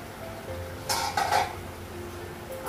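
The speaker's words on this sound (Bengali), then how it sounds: "ঢাকাটা উঠাবো" A metal lid comes off a cooking pot in a home kitchen: a short clatter and ringing clink near the middle, then quiet room tone.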